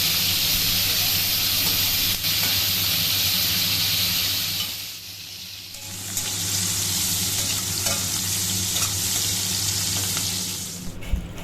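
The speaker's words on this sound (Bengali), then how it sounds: "আমি মাছগুলোকে হলুদ লবণ মাখিয়ে একে একে ভেজে নিই।" Prawns coated in turmeric and salt sizzle steadily in hot oil, a close, continuous crackling fry that dips briefly midway before resuming, with a sharp clink near the end.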